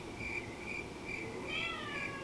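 Indoor house cats meowing, a soft, drawn-out meow repeated a few times in steady succession over a low background hum, moderately close and fairly faint.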